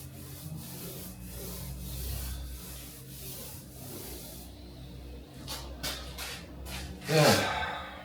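Sandpaper rubs down a painted wooden media wall in soft, repeated strokes, faint and close, ending with a brief louder scrape.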